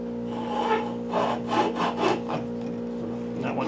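Hand saw cutting a groove into a pine wood block for a pinewood derby car, several short back-and-forth rasping strokes close by over a steady hum.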